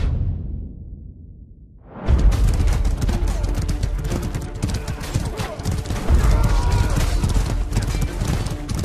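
Horses gallop in the medieval combat video game Mordhau, a dense rhythmic clatter of hooves that bursts in loudly after a quiet start, mixed with battle whooshes and clashing noise.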